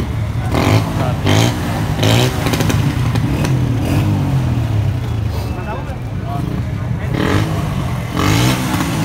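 A 150cc sports motorcycle with double-caliper disc brakes idles and revs steadily in a busy bike market, its engine loud and continuous throughout, with people talking over it.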